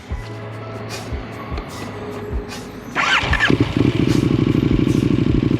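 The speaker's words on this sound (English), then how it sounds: "Give a couple rev bombs, make sure it's working" A motorcycle engine starts up after a short idle-like rumble and then revs, the engine sound close and loud, growing steady and throbbing for the remainder.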